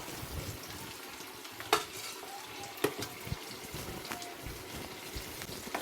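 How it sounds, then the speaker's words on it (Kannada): Green chillies frying in oil and ghee in a pan, a steady close sizzle with occasional clinks and scrapes of stirring. "ಎಣ್ಣೆಯಲ್ಲಿ ಮತ್ತು ತುಪ್ಪದಲ್ಲಿ ಚೆನ್ನಾಗಿ ಹುರ್ಕೋಬೇಕು."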